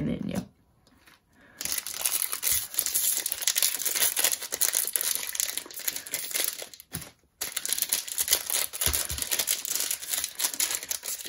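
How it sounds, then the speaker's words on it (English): Theros Beyond Death Magic: The Gathering booster pack wrappers being torn open and crinkled, continuous close foil rustling and crackling with brief quiet gaps, a voice speaking now and then over it. "These packs are pretty hard to open."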